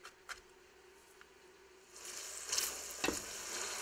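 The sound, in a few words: chopped onions cooking in a pan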